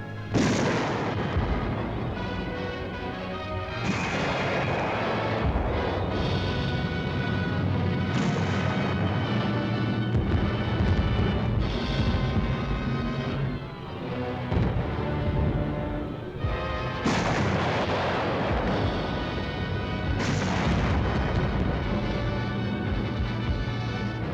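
Enemy shell fire rumbles through wartime newsreel footage of a bridge being built under attack. Dense, loud booms and blasts overlap in a continuous barrage for the whole stretch, with a brief lull partway through.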